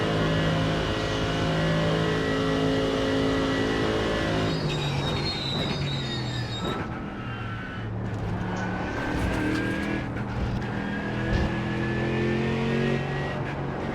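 Mercedes AMG GT3 race car engine at Spa in a racing video game, a steady loud drone with layered harmonic tones that shift in pitch through gear changes and throttle lifts, no voices.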